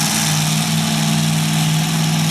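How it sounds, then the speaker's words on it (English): Single-engine modified tractor-pull tractor with an 871 blower idles at a fire company tractor pull, a loud, steady droning roar with a strong low hum, continuous and close with no voices. "Single engine modified, 871 blower on this tractor."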